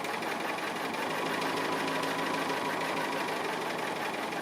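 A sewing machine runs steadily, stitching around the wheel of an appliqué vehicle, its fast even whirr and needle rattle close and continuous with no talking.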